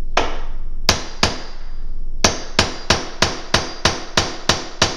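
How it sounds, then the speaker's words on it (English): A big hammer strikes wood in sharp, loud blows while a pony wall is framed: two early hits, a pause, then a steady run of about nine evenly spaced strikes, close and without talk. "I am using the big hammer again."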